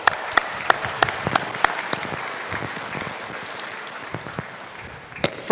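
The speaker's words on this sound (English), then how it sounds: "So please give her another round of applause." Sparse, scattered clapping at a university convocation ceremony, individual claps popping out distinctly over a quieter hall rather than a dense roar, thinning near the end.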